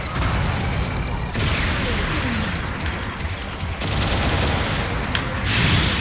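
Rapid bursts of gunfire crackle continuously with dense noise and short gaps in a Mobile Suit Gundam Battle Operation 2 firefight, with a voice faintly mixed underneath.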